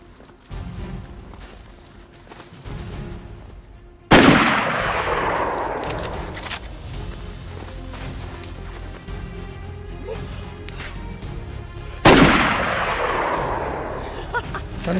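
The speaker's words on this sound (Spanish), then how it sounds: "Están disparando varios" Two loud, sharp gunshots crack out in DayZ on the Namalsk map, each followed by a long rolling echo, with quieter distant shots and rustling between them.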